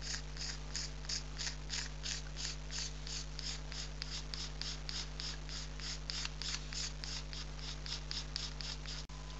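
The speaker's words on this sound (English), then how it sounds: "it's just scraping to take away the knife marks and rough edges" Steady, rhythmic scraping of a knife blade over a carved wooden lyre bridge, an Iron Age replica, dozens of quick, even strokes close up against a low constant hum, with no talking.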